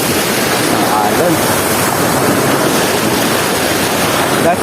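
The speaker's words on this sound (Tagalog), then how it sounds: "Alon." Loud, continuous rush of ocean waves at the shore in Mabini, Batangas, a dense broadband wash mixed with wind buffeting the microphone throughout.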